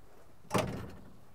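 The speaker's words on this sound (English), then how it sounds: "Door release is on the inside of that handle." A wheel loader's cab door is released from the inside handle and swings open: a single quick latch clack followed by a short rattling swing, heard close up with no talking.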